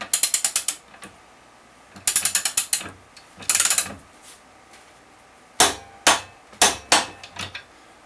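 A ratchet wrench tightens bolts on a Trabant 601 front axle, close and crisp, in several runs of rapid clicking with short pauses between strokes and a few separate heavier clicks near the end.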